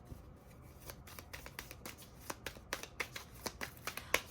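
Tarot cards being shuffled close by in a quiet room, a soft papery riffle that builds into a run of quick crisp flicks and slaps toward the end, faint overall with no speech.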